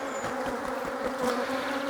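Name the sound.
honeybees buzzing as they are tapped off the queen excluder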